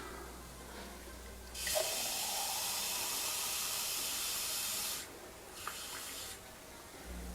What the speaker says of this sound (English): So I'm going to add 1 more cup of water.